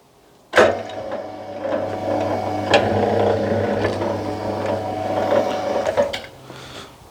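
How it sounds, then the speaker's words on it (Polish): An EN10 ZW235 cable stripping machine runs as it strips stranded cable in thick insulation, giving a steady close mechanical whir and hum with a few sharp clicks, continuing for several seconds before stopping. "Zobaczymy jak maszyna N10 ZW235 poradzi sobie z kablem typu linka."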